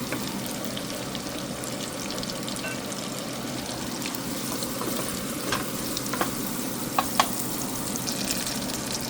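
Garlic frying in a pan for sisig, a steady close crackling sizzle throughout with a few sharper pops and spatters near the end.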